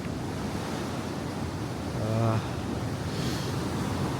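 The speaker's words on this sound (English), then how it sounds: "you can see the waves smashing underneath" Sea waves surging and crashing beneath a seaside pier in Norfolk, a steady broadband wash of surf with wind buffeting, swelling briefly louder midway, with a faint voice in the background.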